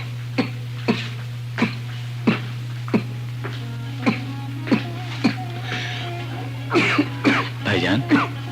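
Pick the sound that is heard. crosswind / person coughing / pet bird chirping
person coughing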